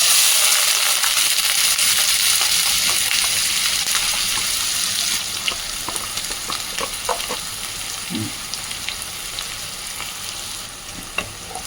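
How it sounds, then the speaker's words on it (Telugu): Chopped onion and green chillies frying in hot oil in a pan with cinnamon and cloves for a mutton liver curry, a loud steady sizzle that eases slightly midway, with a few light stirring clicks. "అవి కొంచెం వేగినాక ఇప్పుడు ఇదిగో ఉల్లిపాయ, పచ్చిమిరపకాయ వేస్తున్నాను"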